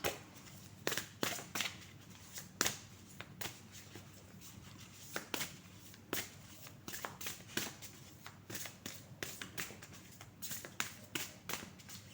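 A deck of tarot cards is shuffled and cards are drawn, giving a steady run of soft, quick riffling flutters and light taps close by, with no talking.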